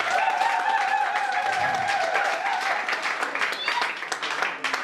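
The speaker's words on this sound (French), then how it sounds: "Applaudissez encore une fois." Sustained audience applause at a French Labour Day company gathering, dense, steady clapping filling the room for several seconds and thinning slightly toward the end, with a faint voice audible beneath it.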